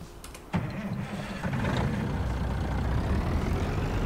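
A milk truck engine cranks and catches in a German farming game, then settles into a steady mid-pitched diesel idle that runs on without pause.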